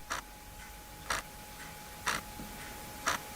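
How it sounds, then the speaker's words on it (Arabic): Quartz analog watch ticking, four crisp, evenly spaced ticks one second apart, close and quiet with no other sound. "زي ما بتسمع الساعه لما تيجي تعمل تك تك تك"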